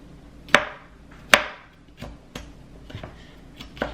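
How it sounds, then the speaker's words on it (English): A knife slices bell peppers into strips on a cutting board, giving two loud, sharp chops near the start followed by several softer, irregular taps. The cuts are close and clear, with no talking. "we're just going to do the same thing with our peppers. Just going to cut into strips"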